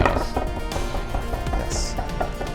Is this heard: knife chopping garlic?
yes